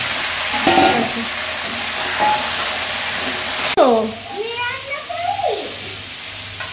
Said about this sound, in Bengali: এবার আমি মাংসটা দিয়ে দিলাম। মাংসটা ভাজা ভাজা করবো।